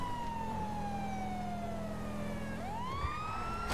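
A police car siren in the video game GTA 5 wails with a slowly falling tone, then sweeps upward again, loud and continuous over a steady engine drone.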